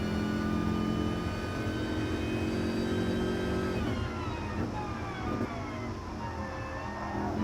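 Racing car engine from a racing video game, revving and shifting with pitch sweeps as it brakes and accelerates, loud and continuous with no talk.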